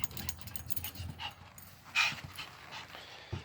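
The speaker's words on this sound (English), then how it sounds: "the owner has a small, about 8-pound Yorkie that goes everywhere." A small Yorkie of about eight pounds pants in quick, soft breaths close by, with a few faint whimpers and yips mixed in and brief rustling around it.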